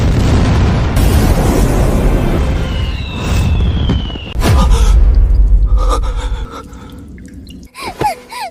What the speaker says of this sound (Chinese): 高爆榴弹，顺发引附，各炮瞄准，开火！